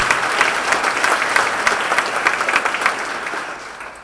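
Sustained applause from an audience at a university engineering building grand opening, honoring school faculty; steady dense clapping that holds for about four seconds before tapering slightly, with no voices over it.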